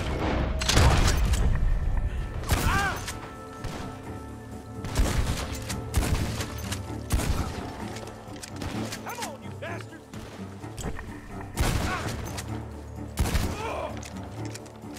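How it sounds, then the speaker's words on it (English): Bursts of gunfire in Red Dead Redemption 2 crack repeatedly, loud and close, with booms and scattered shouting between the shots. "Gunshots are coming from that barn!"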